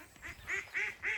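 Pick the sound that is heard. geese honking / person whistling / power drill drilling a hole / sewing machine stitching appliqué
geese honking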